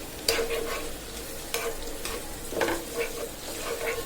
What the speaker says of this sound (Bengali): ভাজি করার জন্য আমি পেঁয়াজ রসুন কাঁচামরিচ আগে তেলে ভালোভাবে ভেজে নিচ্ছি।